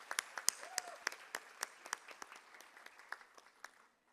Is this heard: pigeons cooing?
no